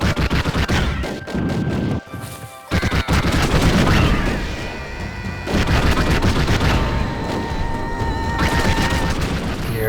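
Missiles explode in the video game Raze's Hell as a dense, loud barrage of booms and gunfire-like blasts with brief gaps, and a voice speaks over it now and then.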